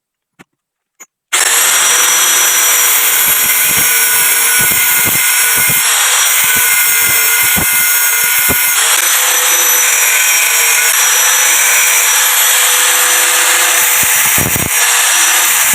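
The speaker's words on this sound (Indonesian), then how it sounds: "karena belum punya bubut ya kita bubut manual menggunakan gerinda" An angle grinder spins against a size 14 bolt held with a bushing and nut, improvised as a lathe for reworking a motorcycle tube shock; after two taps it starts up and whines loud and steady, with grinding scrapes pulsing throughout.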